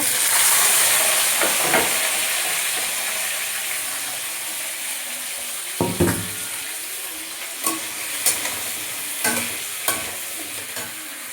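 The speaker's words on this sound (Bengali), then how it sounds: "এটা বিট গাজরটা ভেজে নেব" Beetroot and carrot fry in a wok, a loud continuous sizzle that eases slightly over time, punctuated by repeated scraping stirs of a utensil against the pan.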